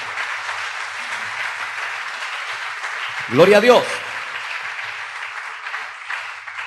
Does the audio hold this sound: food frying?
no